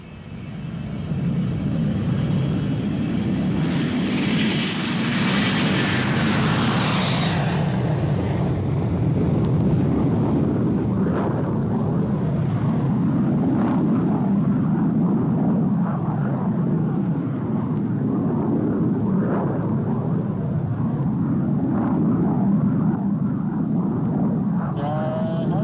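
Avro Arrow jet aircraft at takeoff with throttles opened, a steady loud roar of engine and rushing air holding for the whole stretch, with a brief swelling surge early on.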